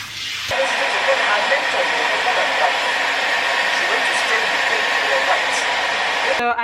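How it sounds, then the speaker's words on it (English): A blow dryer drying hair at home runs with a loud, steady hissing roar that starts abruptly after a brief pause and holds nearly constant until it cuts off at the end. "dried it up with my blow dryer"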